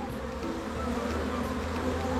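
Honeybee drones buzzing around a freshly collected swarm: a steady, dense, close hum of many bees with no pauses, moderately loud and continuous throughout.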